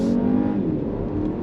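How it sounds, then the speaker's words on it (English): A turbocharged 2025 Mini Cooper S engine pulls under throttle, a steady, fairly loud engine roar and whir heard from inside the car, with no talking. "Once that turbo spools up, we're going."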